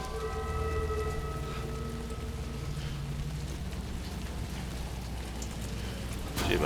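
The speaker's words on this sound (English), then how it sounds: "It's starting to rain." Rain falling in the video game Death Stranding 2, a dense, even hiss of downpour that holds steady throughout, with faint tonal game sounds underneath and a brief louder burst at the very end.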